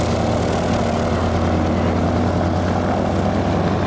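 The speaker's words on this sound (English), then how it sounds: "And that's the Stearman we're going flying in today." A Stearman biplane's propeller engine drones steadily and loudly at Oceano Airport, a continuous rough engine roar with no talking.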